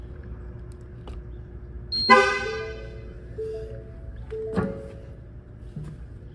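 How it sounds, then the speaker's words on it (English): Two short truck horn beeps confirming tire pressure sensors are programmed, a few seconds apart, over a steady low engine idle; the first is louder and clearer. "You should hear a couple of beeps from the truck saying they're all programmed."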